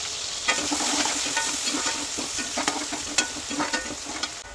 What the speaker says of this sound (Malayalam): അപ്പോൾ ഇതേ അതിലേക്ക് നമ്മൾ ആദ്യം ഇട്ട് കൊടുക്കുന്നത് ചുവന്നുള്ളി, വെളുത്തുള്ളി, ഇഞ്ചി.